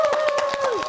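Studio audience on a Korean TV talk show applauding a guest as he is introduced, a short burst of dense clapping with a steady tone running underneath.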